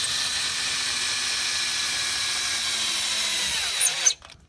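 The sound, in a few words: power drill with socket cranking camper jack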